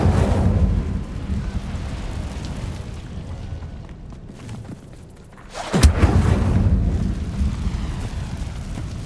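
The Incendio fire spell is cast in Hogwarts Legacy with a dense, continuous roaring rumble. A sudden sharp blast lands partway through, and the heavy roar swells again afterwards.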